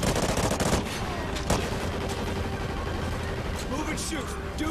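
Automatic and rapid gunfire in the Call of Duty Ghosts campaign, with bursts from a Bizon submachine gun and a dense crackle of fire throughout and a louder crack near the start and middle, under continuous combat noise.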